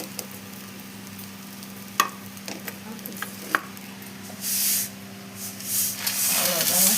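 Idli chili powder is stirred and scraped in a pan, with faint scratchy stirring, a few sharp taps, and brief hissing bursts over a low steady hum.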